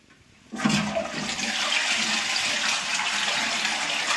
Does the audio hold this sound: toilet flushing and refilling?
yes